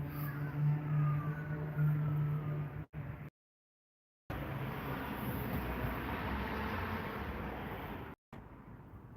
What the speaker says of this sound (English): Here comes a loud car or something.